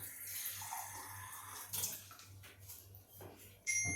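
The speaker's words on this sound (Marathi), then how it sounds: "आपण त्यामध्ये आता पाणी टाकूया कारण ही आमटीची कन्सिस्टन्सी पातळ असते" Water pours into a pot of Maharashtrian amti curry, a soft splashing trickle that swells briefly, faint and close with no speech.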